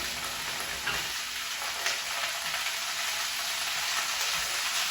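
Kale with a squeeze of lemon juice cooks down in a pan, sending up a soft, continuous sizzle with fine crackles that sounds a little like rain on a surface. It is heard alone.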